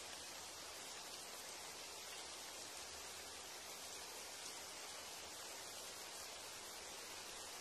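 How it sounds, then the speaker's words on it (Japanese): Rain falls steadily in an anime film scene, a faint, even hiss of dense drops with no pauses and no voices. "雨降ってるぞ。"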